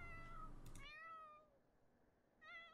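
A cat in a cozy life-sim video game meows twice, a drawn-out cry and then a shorter one after a pause, fairly faint over a low rumbling background.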